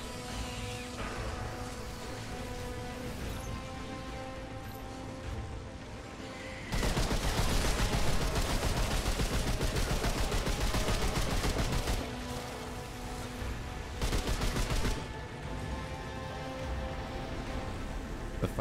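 Rapid gunfire from high fire-rate weapons in Remnant 2: long bursts of fast shots, loud and close, the heaviest stretch in the middle, with quieter game ambience before and between.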